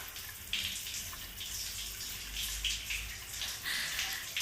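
Tap water runs steadily from a faucet as blood is washed off hands, a continuous splashing hiss with a few small surges and no talking.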